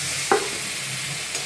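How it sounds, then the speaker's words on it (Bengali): Soaked rice stir-fried with spices and a little sugar in a pan makes a steady close sizzle, with a single short scrape of the spoon partway through. "চালটা দিয়ে আমি অল্প ভালো করে কষিয়ে নেব।"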